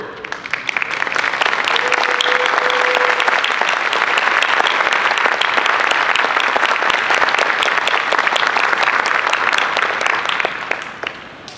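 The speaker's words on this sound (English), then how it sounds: "If you could stand up and let us cheer for you." An audience at a high school concert band performance applauds a senior clarinet player with sustained, dense clapping for over ten seconds, loud and steady, fading slightly at the end.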